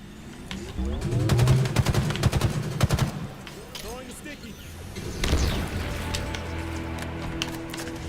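Battle rifle fire in Halo Infinite multiplayer: rapid bursts of sharp gunshots crack across the first few seconds amid game effects and background sounds, and a voice talks over parts of it.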